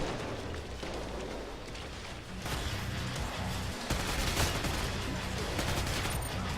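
Gunfire in the video game Killing Floor 2, including a scar rifle, fills the clip with dense rapid bursts and sharp shots, fairly faint overall, with louder cracks near the end.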